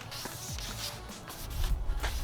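Sandpaper rubbed by hand across a cloudy plastic car headlight lens, a close, steady scratchy scrubbing with short repeated strokes that grow slightly louder toward the end.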